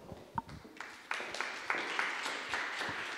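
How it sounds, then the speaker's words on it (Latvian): An audience at an education and statistics report presentation bursts into applause to welcome a speaker, the clapping building from a few scattered claps into steady, moderately distant applause. "Sagaidām ar aplausiem."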